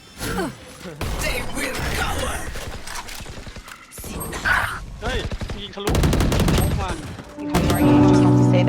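Gunfire in the video game Valorant comes in several loud bursts and rapid volleys across the stretch, with brief pauses between and game effects layered in.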